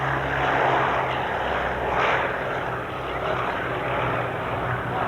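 Piston engines of a B-17G bomber, 1,200 horsepower each, from the Lone Star Flight Museum in Galveston, Texas, drone steadily as it flies at the 1994 Aviation Heritage Air Show in Clark County, Indiana; loud continuous roar.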